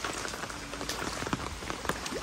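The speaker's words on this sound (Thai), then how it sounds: "ฝนตกอย่างหนักเช้านี้นะคะ" Heavy morning rain pours steadily outdoors in Maha Sarakham, a dense, continuous hiss of drops striking the ground and surfaces, with no voices.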